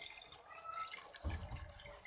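Water is poured into a cooking pot of beef nalli nihari browned with nihari masala, a faint splashing trickle that deepens into a fuller low pour partway through, with no talk.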